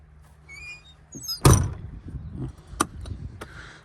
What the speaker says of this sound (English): Door opens and closes nice.